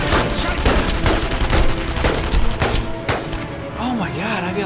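Dense, loud gunfire from a firefight in the World War II shooter video game Enemy Front, rapid bursts and explosions layered continuously with no pause.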